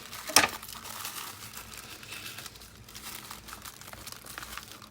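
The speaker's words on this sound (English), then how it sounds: "oh, we got to cut off this page now" A magazine page being cut off by hand, with a single short crisp crinkle early on, then a faint continuous papery rustle that stays quiet throughout and has no talk over it.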